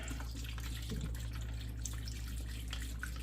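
Sip of Sunshine IPA beer is poured down a sink drain, a quiet steady splashing trickle with faint fizzing over a low constant hum.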